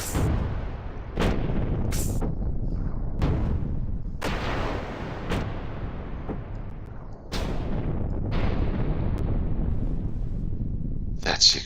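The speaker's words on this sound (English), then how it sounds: "that's the exploding ship." Ship explosions and weapon blasts from the space strategy game StellarTactics, a run of loud booming bursts with rumbling decays over continuous dense battle noise, spoken commentary running underneath.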